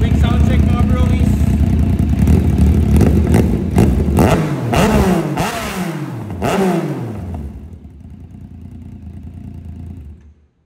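A Yamaha XSR 900 motorcycle fitted with a short aftermarket exhaust revs loudly several times close by, each rise and fall of the engine note clearly separated, before settling toward idle and fading near the end.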